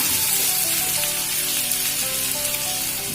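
Vegetables for capsicum rice frying in a pan, a dense continuous sizzle and crackle heard close and loud throughout, with no talking.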